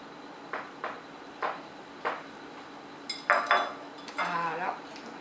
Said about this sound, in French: on va commencer la recette par mettre le beurre dans notre bol